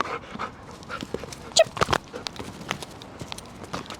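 A trained service dog pants in quick, breathy bursts close by, with a few sharp taps and brief sounds mixed in around the middle.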